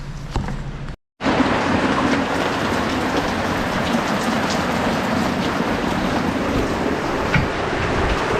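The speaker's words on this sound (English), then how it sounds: "This is the rain pouring down." Heavy, cold rain pours down during an outdoor polytunnel build, a loud, dense, unbroken roar of drops close by, cutting out briefly near the start and then resuming steadily.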